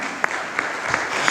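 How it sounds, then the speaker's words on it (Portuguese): A church audience claps steadily, a dense close burst of applause with a few sharper individual claps standing out in a short stretch. "Pode aplaudir, pode aplaudir."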